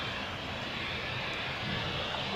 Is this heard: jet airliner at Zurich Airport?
yes